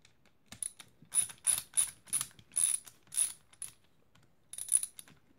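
A hand ratchet loosening a row of screws, giving several bursts of fast metallic clicking with short pauses between them, close and clear, with no talk.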